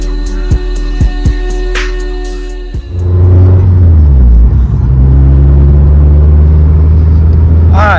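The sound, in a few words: Mazdaspeed 3 car driving on test drive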